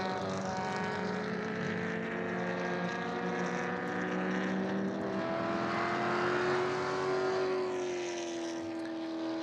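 An orange Honda Fit race car on a circuit holds a steady engine drone that shifts in pitch as it brakes for a corner, the sound sustained and moderately loud, with no voices over it.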